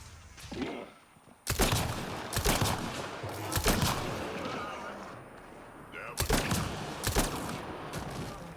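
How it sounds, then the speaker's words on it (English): An assault rifle fires in bursts during Mass Effect: Andromeda combat, loud sharp volleys cracking out repeatedly at close range with echoing tails, a game voice briefly sounding between shots. "we're gonna switch over to the assault rifle"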